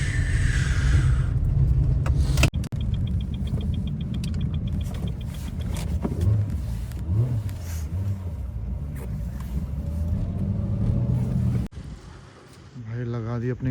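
A 4x4 vehicle's engine rumbles steadily up close while it drives, a low continuous drone with wind and cabin noise, broken by a brief knock and a short dip near the end, with people talking over it.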